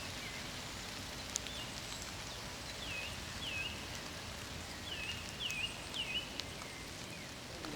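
Steady rain pours down outdoors in a constant broadband hiss, with a few faint bird chirps scattered on top and no voices.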